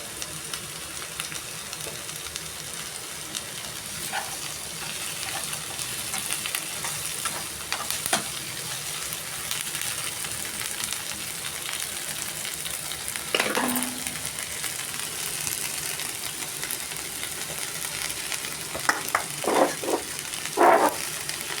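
Green chillies frying in oil for a jackfruit masala curry, a steady sizzle with occasional scrapes and clinks of stirring, louder spoon strokes near the end.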